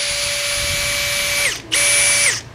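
Makita HP002G 40V brushless hammer drill boring with a 25 mm spade bit: two loud, close, high-pitched whining bursts, the first longer, separated by a brief dip as the motor slows and spins back up.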